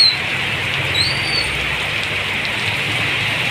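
Heavy sudden rain pours down as a dense, steady hiss on a roadside with traffic, with a low rumble underneath and a faint high chirp near the start.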